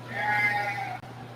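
A sheep bleats in a long, wavering cry at a 4-H sheep show, close and clear over a low steady hum of the show arena.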